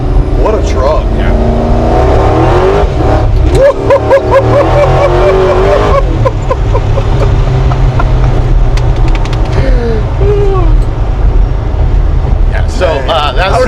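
A 1000-horsepower patina Chevrolet C10 truck on a full IRS chassis pulls hard, its loud engine roaring steadily for the whole stretch as excited voices talk over it.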